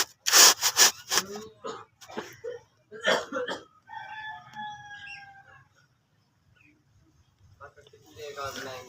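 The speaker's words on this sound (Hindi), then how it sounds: "सिर्फ मैं क्रम्बलिंग करूंगी आप लोगों के लिए।" Baked clay or cement chunks crumble and crunch between fingers in a few sharp, gritty bursts up close, while someone talks around them.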